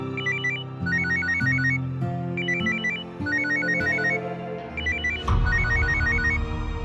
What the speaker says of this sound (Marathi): तुझाच फोन वाजतोय.